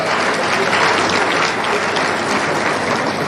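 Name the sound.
conference audience applauding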